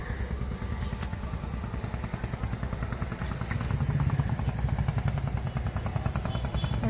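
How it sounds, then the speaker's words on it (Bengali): Motor launch chugging past on the Ganges river at evening, a steady, dense low engine throb with rhythmic pulsing that swells slightly midway, close and continuous with no talk. "একটা লঞ্চ যাচ্ছে"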